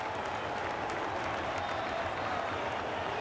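A large esports arena crowd at an EA Sports FC 24 playoff match at the Esports World Cup cheers and applauds in a dense, continuous roar that stays loud and steady throughout.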